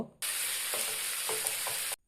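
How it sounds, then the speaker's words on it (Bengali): Onions sizzle and fry in hot mustard oil in a frying pan, a steady bright crackling hiss with a few soft stirring scrapes, starting and stopping abruptly. "একটি ফ্রাই প্যানে কিছুটা সর্ষের তেল দিয়ে বাকি পেঁয়াজ কুচিটা ভেজে নেব।"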